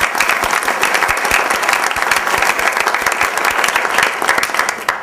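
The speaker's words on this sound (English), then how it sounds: "So let's clap now." A crowd clapping together at a Columbus energy challenge gathering, loud, close and steady, with crisp individual claps standing out in a continuous burst.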